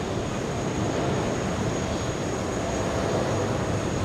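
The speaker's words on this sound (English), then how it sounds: "we have American Airlines on the move" American Airlines jet rolling on the ground at JFK airport, a steady broad engine roar with constant wind-like rumble throughout, no talking.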